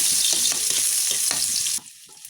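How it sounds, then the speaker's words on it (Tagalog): Garlic sautés in a pan in hot oil, crackling loudly up close with a few stirring scrapes, before the sizzle cuts off abruptly near the end. "Una, magisa tayo ng bawang."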